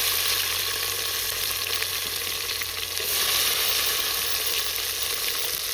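Tomatoes and masala with green chillies fry in hot oil for masala Maggi noodles, giving a close, even, continuous sizzle with a slight swell partway through as the mixture is stirred.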